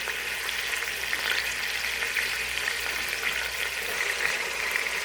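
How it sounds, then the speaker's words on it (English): Beef browning in a pot, a steady close frying sizzle with constant crackling and no break or talk throughout. "I'm going to let it brown on both sides for 5 minutes without touching it."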